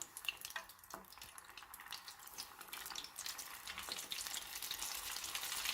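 Rabbit pieces fry in hot oil with a fine, crackling sizzle that builds and grows denser over several seconds, fairly quiet with no talking.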